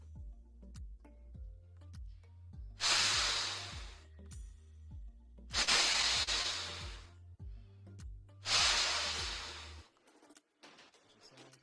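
Three long breathy rushes of air, each a couple of seconds, over a steady ticking rhythm in the background, with no buzzing tone.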